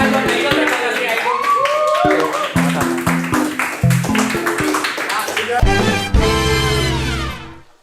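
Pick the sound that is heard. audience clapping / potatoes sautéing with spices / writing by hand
audience clapping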